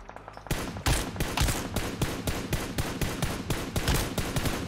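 Nonstop automatic gunfire in PUBG Mobile on the Erangel map, a loud, dense burst of rapid shots that starts after a brief pause and keeps hammering without a break.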